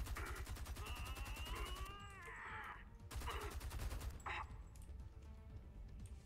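Rapid bursts of automatic gunfire ring out in a Homefront The Revolution firefight through a ruined hospital in the Old Town red zone, dense repeated shots close and loud for most of the stretch with brief lulls.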